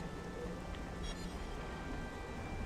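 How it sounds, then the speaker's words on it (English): Steady rain falling in Xenoblade Chronicles at Distant Fingertip, a continuous hiss with no thunder, joined by a faint low rumble of machinery moving in the distance. "It's just raining."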